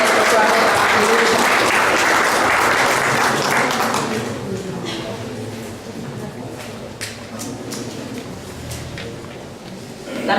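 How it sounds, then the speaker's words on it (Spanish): Conference audience applauding a guest speaker at a Morena state committee event in Mexico City, a loud dense clatter of many hands for about four seconds, then fading into softer scattered clapping and room noise. "Un aplauso, por favor, para nuestro ponente"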